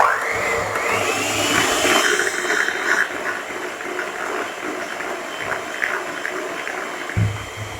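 Whirring electric mixer beats chocolate mascarpone cake batter with sugar, a continuous motor whine with shifting pitch and occasional bowl scrapes, close and fairly loud, with no talking.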